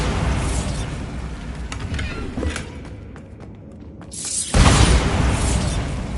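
A Bombarda blasting spell goes off in Hogwarts Legacy, a loud close burst that first rumbles and crackles, then lands as one heavy booming impact with a debris-like rush trailing after it.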